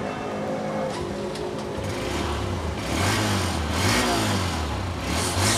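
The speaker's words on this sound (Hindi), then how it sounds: "साउंड सुने, सेल्फ ने किया फौरी काम। होंडा CB 150F हुई स्टार्ट।" A Honda CB 150F motorcycle is self-started, with a whirring starter giving way to a steady, close mid-pitched engine idle that swells slightly as it settles into a throbbing run.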